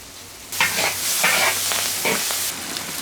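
Sichuan peppercorns hit a hot wok with pickled vegetables, and the sizzle jumps louder after a quiet start, with bursts of hissing and spatula stirring close by.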